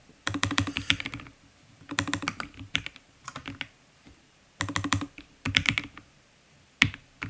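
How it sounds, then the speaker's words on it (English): Computer keyboard typing in several quick bursts of clicking keystrokes with short gaps between them, close and fairly quiet, no voices. "oh, my keyboard is not working"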